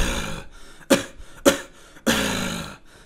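Three separate deliberate coughs in a beatbox throat bass lesson, each a sharp burst with a short gap between, the last stretched out longer; a voice hums quietly before them.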